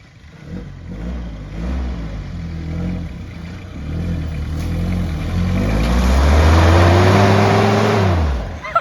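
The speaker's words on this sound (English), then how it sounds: "We're going to see if his Hilux can get up it." Toyota Hilux engine revving and straining up a slipway onto the road, a loud nearby roar climbing steadily in pitch and intensity before easing off at the end.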